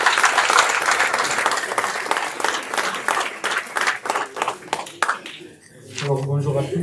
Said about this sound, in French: je voudrais qu'on l'applaudisse si possible